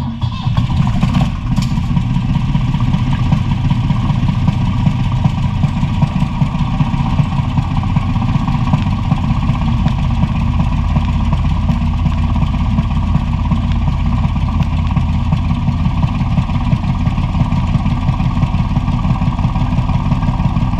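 A tractor engine idles steadily on a farm before backing hay wagons, a loud, continuous low rumble holding an even pace throughout with a few faint knocks near the start.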